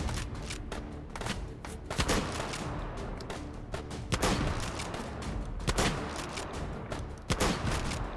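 Shotgun blasts in a video game fire in rapid, irregular bursts of sharp booming reports over a dense, continuous game-sound bed.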